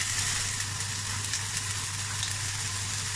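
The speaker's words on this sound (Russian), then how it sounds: "Отжариваем лук с морковью." Chopped onion and carrot sizzle and crackle steadily in hot oil in a pan, a constant close hiss with no talking.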